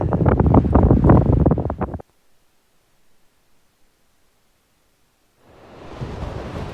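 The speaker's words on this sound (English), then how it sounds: "it's so windy. I hope you can hear me." Strong wind on the west coast of King Island buffets the microphone in a loud, roaring rush, cuts to near silence, then returns as a steadier gusting hiss.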